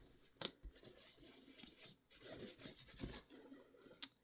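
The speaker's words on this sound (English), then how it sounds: "all I do is wipe over the embossing to make sure I get the residue off from the ink" A tissue wipes over an embossed card to clear ink residue, producing soft, close papery rubbing strokes with a couple of sharper brushes, faint and quiet throughout.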